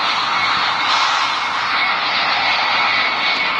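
Steady airplane engine drone from a video game, a continuous broadband roar holding level throughout with no talk over it.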